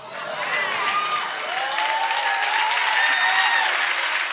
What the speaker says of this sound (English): Kind of sketchy how much y'all clapped about that.